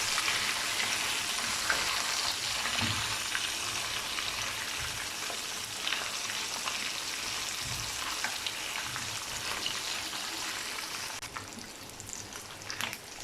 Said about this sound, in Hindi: पाँच मिनट के लिए हम लोग इसे गर्म ऑयल में फ्राई करेंगे।